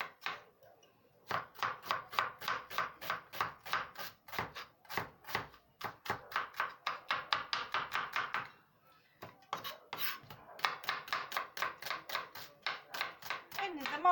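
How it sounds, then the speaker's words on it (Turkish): Rapid, rhythmic knife chops on a cutting board as an onion is diced, crisp and close, with a brief pause partway through. "Soğanlarımı ince ince küp küp doğrayacağım."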